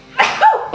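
A single short, loud sneeze bursts out close by, sharp and sudden, in an indoor setting during an unboxing.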